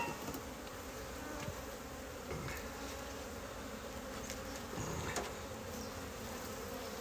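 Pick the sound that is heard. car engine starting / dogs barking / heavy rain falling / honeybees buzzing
honeybees buzzing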